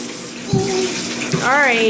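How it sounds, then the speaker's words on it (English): Water pours steadily from a bathtub tap into a tub with snow in it, a close continuous gush with small splashes, while a child and an adult speak briefly over it. "we're gonna have to turn the water off for a minute"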